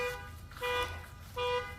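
Two electronic car alarm tones, a short bright beep repeated at regular intervals, heard from some distance against quiet background hum.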